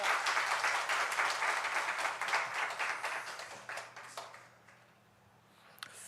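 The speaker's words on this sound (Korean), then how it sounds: "박수로 환영하겠습니다" Church congregation applauding to welcome a deacon forward to give a testimony, a full burst of clapping that thins out and fades to near quiet, with a faint tap near the end.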